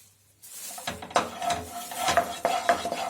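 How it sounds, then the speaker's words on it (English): Whole wheat flour added to melted butter in a pan and stirred with a utensil, with clinks and scrapes against the metal over a soft sizzle, close, following a brief quiet start. "Now I am adding 1 tablespoon wheat flour in it."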